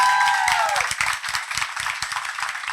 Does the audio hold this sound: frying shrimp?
no